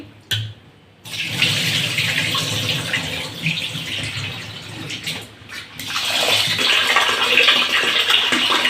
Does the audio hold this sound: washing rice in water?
yes